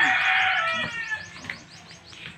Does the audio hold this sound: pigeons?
yes